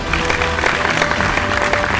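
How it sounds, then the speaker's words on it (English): Audience applause at an interior-design awards ceremony in Delhi NCR, a steady dense roar of many hands clapping close by, continuous and even throughout, with a faint voice beneath it. "Please give yourself a big round of applause"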